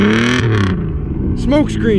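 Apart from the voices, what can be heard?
car engine revving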